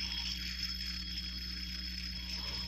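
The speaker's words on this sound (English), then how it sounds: "A Zentoy fidget spinner." A solid steel Zentoy fidget spinner spins steadily, giving a faint, even whir with a high sustained tone that holds without change throughout.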